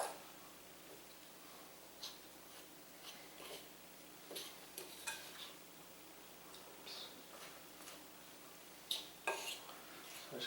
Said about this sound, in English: So just kind of stir around a minute.